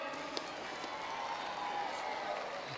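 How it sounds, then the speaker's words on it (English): A large arena crowd at a woodchopping and sawing competition applauds the Australian team, a dense steady wash of clapping heard from a distance, with scattered cheers. "How about we hear one big round of applause for the Aussies, their winners tonight"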